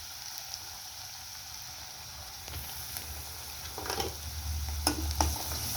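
Green chilies sautéing in a pan while green cowpea pods are being cooked, giving a steady close sizzle with occasional stirring scrapes and light spatters, with no talking.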